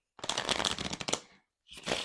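A deck of small Lenormand cards is shuffled close up in a crisp riffling burst lasting about a second, then a brief silence and a second shuffle begins.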